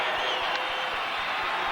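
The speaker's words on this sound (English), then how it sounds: "Listen to the crowd." Baseball stadium crowd at a 1988 Cubs game, a broad steady roar of cheering heard from a distance, continuous and moderately faint across the short moment.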